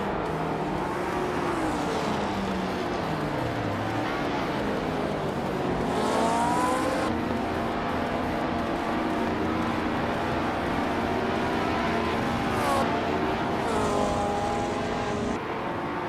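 1960 Formula 1 race cars in a video game race on a tight street circuit, a dense, continuous engine roar with pitch rising and falling as cars pass and shift, loud and close throughout, with no talk.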